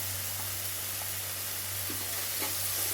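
Onions with ginger garlic paste sauté in a pan for a chicken pepper soup, a constant dense sizzle close by with faint occasional stirring taps and a low steady hum underneath.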